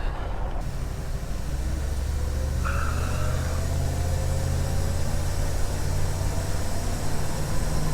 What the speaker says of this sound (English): I'm gonna see about driving this up the road a little bit and see how it does